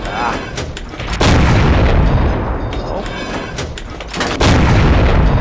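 Tank cannon fire in a tank video game, two heavy booms scoring a critical hit, loud and close over rumbling engine and battle noise.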